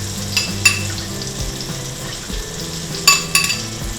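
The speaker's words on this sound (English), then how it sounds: "let's make sure those bananas are flat and in the butter, sauteing" Bananas sautéing in butter in a pan, a gentle continuous sizzle broken by a few sharp utensil clinks against the pan, close and fairly quiet.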